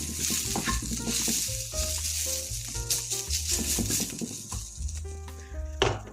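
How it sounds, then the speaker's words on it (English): Onions frying and caramelizing in a pan for chilli, a soft continuous sizzle with occasional stirring scrapes, heard beneath steady background music. "Now the onions have been fried and caramelized for a bit."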